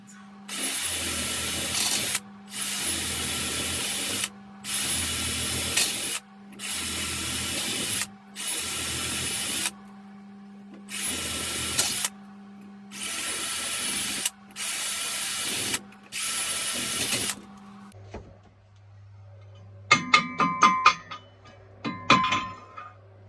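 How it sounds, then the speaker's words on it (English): Drilling at a workbench during model engineering prep, a motor whirring in repeated bursts of about two seconds each with short pauses, then sharper clicks and rattles of tool handling at the end. "So I think I'm just going to hand drill it"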